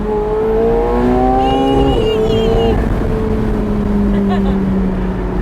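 A McLaren 750S Spider sports car drives with its engine droning loudly and steadily, the pitch climbing through revs, then dropping back and holding.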